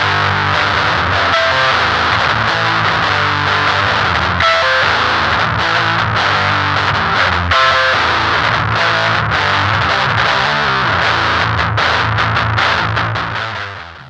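An electric guitar played through LBF Pedals Fuzz Cauldron and Ouroboros distortion pedals rings out loud and saturated, with thick fuzzy chords and choppy strummed bursts continuing with no talk before fading at the end.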